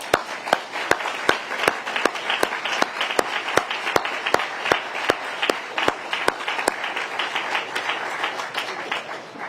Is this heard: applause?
yes